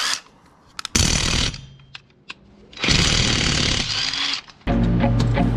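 A Parkside PASSK20-Li A1 half-inch cordless impact wrench runs in loud bursts, with one short burst followed by two longer sustained runs separated by pauses and faint clicks.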